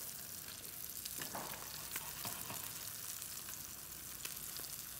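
Tilapia fillet frying in a pan, a steady soft sizzle and crackle with faint spatters, heard alone with no talking.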